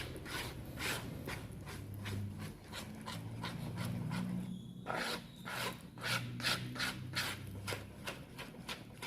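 Nougat cake batter with flour and mocha paste being stirred by hand in a bowl, a rhythmic series of scraping, rasping strokes at a steady pace with a brief pause midway, close and fairly quiet.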